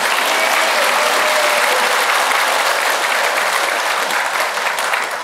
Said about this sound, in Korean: 여러분, 이 두 분께 다시 한번 환영의 박수를 보내주시기 바랍니다.